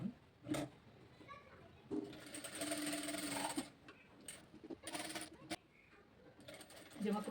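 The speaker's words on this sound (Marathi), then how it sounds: "आणि मग आता याला संपूर्ण बाजूने मी इथे स्टिच करणार आहे" A sewing machine stitching a blouse lining runs in short mechanical bursts, a longer rattling run in the middle, faint overall with nearby voices and clicks between stitches.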